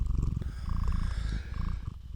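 A cat purrs close by in a loud, rough, rhythmic rumble that pulses steadily with each breath throughout, and no voices break in.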